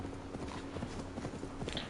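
A horse's hooves clip-clop in a quick, steady rhythm in the video game Assassin's Creed Valhalla, close and moderately loud over a faint background hum.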